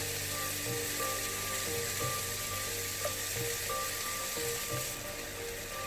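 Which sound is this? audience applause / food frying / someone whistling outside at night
food frying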